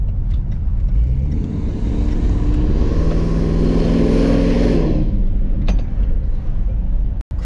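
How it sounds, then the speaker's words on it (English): A Range Rover SVR drives with its exhaust valves closed. The engine and exhaust roar loudly and close, swelling as it accelerates and then settling, with a brief thump near the end and no talk. "I'm only gonna drive with the exhaust valves closed, just so you guys can get a sense of just exactly how loud this car is."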